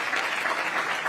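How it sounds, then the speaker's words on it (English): An audience at a CEO forum in Jakarta applauds panelists, a steady burst of dense clapping from a full room, even and sustained. "If we can give our panelists a warm round of applause."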